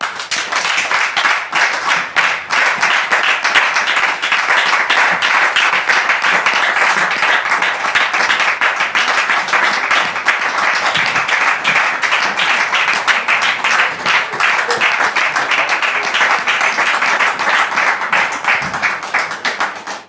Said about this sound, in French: nous allons recevoir M. Cédric sous vos applaudissements, s'il vous plaît